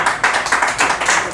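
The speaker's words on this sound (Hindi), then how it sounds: "तालियां अभी आधे लोगों ने बजाई" An audience claps in a short, close burst of rhythmic hand claps, loud and without talk.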